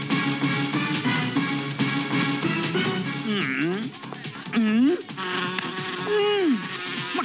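Houseflies buzz in a continuous, dense high drone throughout, with sweeping pitch glides as they fly close past, loud and near over a steady background.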